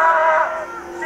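Supporters in the audience at the Puteri Indonesia 2022 pageant cheer loudly for a contestant during the evening gown round, a dense, sustained roar of many shouting voices that eases off slightly toward the end.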